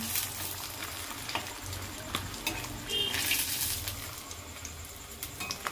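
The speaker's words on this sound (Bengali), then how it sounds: "এরপর দেখুন আমি এটা একটা পাত্রের মধ্যে কিন্তু তেল থেকে ছেঁকে কিন্তু তুলে নিচ্ছি।" Chicken popcorn fries in hot oil with a dense, continuous sizzle and crackle, while occasional metallic clinks and scrapes sound as the pieces are strained out of the oil.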